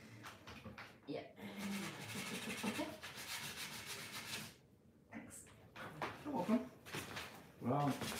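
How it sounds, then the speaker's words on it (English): Wooden drawer bottoms being sanded by hand, a steady broadband rubbing and scraping that runs for several seconds, pauses briefly, then resumes in shorter strokes, with people talking over parts of it. "Could you please really quickly sand that bottom bit just so I can get another shot on the camera?"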